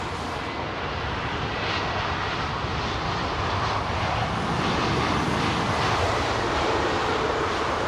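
A Boeing 777-300ER jet roars at Heathrow Airport, its engines producing a continuous broadband rumble and whine that swells slightly as it goes on.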